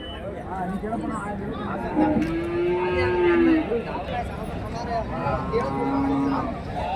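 Cattle and young calves at the Karimangalam livestock market in Dharmapuri district low out in long drawn moos, one after another over a steady murmur of crowd noise and background chatter.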